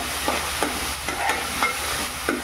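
Tomato with a paste of green chili, coriander, garlic and ginger cooks in a pan, giving a steady soft sizzle broken by a regular series of close stirring scrapes, with no voices.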